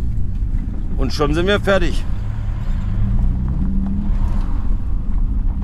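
A Corrado R32 bi-turbo with DSG gearbox rolling in at low speed, a continuous close engine rumble that stays constant throughout, while someone speaks briefly over it.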